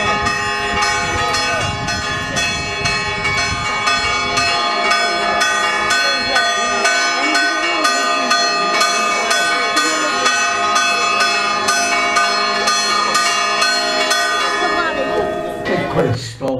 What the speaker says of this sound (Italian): accogliamo il suono delle campane